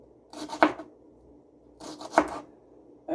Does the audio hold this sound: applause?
no